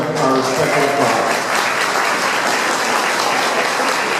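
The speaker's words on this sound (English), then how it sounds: "May we give him one more round of our respectful applause." Sustained applause from an audience at a Global Peace Foundation event in Fredericksburg for Nepal earthquake relief, loud and dense throughout with a brief voice at the start.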